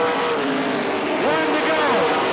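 A field of stock race cars sweeps past at Rockford Speedway, engines rising and falling in pitch as they pass one after another, under an excited announcer's commentary.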